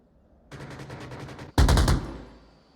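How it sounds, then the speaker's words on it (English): A sustained burst of rapid automatic gunfire in the VR shooter game Onward, then a louder, denser volley of shots that rings out and fades, with no talking. "Lots of gunshots coming out"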